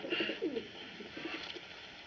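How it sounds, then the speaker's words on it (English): A United States Army Signal Corps carrier pigeon coos in a series of soft, low, throaty calls, close by, with no voices over it. "United States Army Carrier Pigeon number 13576."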